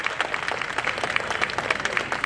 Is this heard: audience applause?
yes